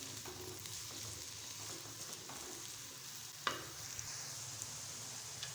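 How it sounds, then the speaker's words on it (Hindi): Chopped onions frying in ghee in a pan, a soft steady sizzle with occasional stirring clicks, quiet and close with no voices. "प्याज को हम अच्छे से फ्राई करेंगे।"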